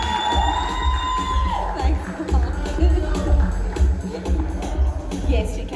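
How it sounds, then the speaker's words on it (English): An audience at a sponsorship and leadership talk claps and cheers, with whoops and shouts rising over sustained applause that stays lively and fairly close throughout. "Let's please give him a round of applause."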